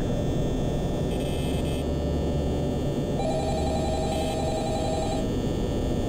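A telephone rings inside the Five Nights at Freddy's 3 video game, a steady electronic trill repeating in short bursts over a constant hiss of background noise.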